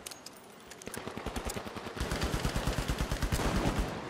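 Rapid gunfire rattles in the shooter video game The Finals: scattered shots at first, then a loud, steady automatic burst of closely spaced reports, with no talking over it.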